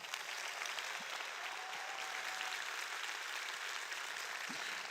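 An audience at a conference opening applauds a performing music group, the clapping a dense, even wash that carries steadily at moderate distance, with a faint voice briefly heard underneath.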